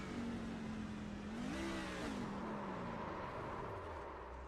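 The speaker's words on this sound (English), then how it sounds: "Tried to downshift a gear and just didn't have the truck slow enough to complete that." A racing truck in a racing video game over-revs on a failed downshift, its engine whine climbing then dropping in a steady, loud drone with no talk over it.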